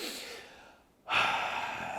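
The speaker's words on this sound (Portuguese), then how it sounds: "quando eu encho meu pulmão de oxigênio, quando eu puxo ele com muito ar" A deep inhalation fills the lungs with air: a loud, close, rushing breath drawn in sharply after a moment of near silence and held for about a second.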